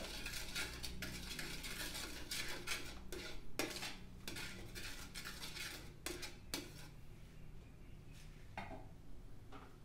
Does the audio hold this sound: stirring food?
yes